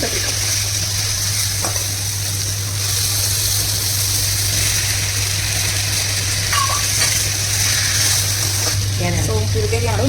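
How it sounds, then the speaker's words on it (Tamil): Onion, tomato and beetroot sauté in a pan for a beetroot kuzhambu, giving a steady, continuous sizzle with occasional stirring scrapes, close and fairly loud throughout with a constant low hum underneath. "வெங்காயம் தக்காளி நல்லா வதங்கிடுச்சு. இப்போ பீட்ரூட் சேர்க்க போகிறோம்."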